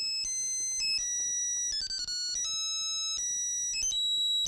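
A mobile phone plays an electronic melodic ringtone of stepped, high, clear notes, repeating steadily and prominently for several seconds in a Telugu comedy film scene from Okkadu, with no talk over it.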